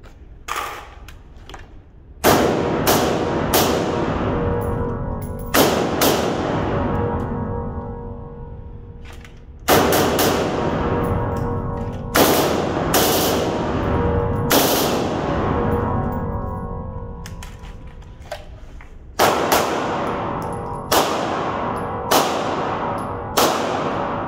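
An HK33 select-fire rifle fires outdoors in loud, sharp reports, mostly single shots and quick pairs spread unevenly across the stretch, with a short rapid burst near the end and no talking.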